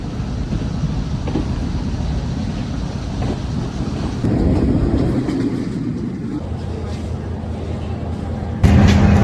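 Steady rumble of a passenger train travelling from Peradeniya to Hatton in hill country, continuous and fairly loud throughout with no speech, rising slightly midway and louder at the very end.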